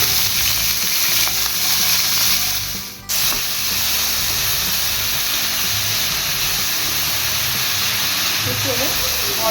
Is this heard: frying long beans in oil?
yes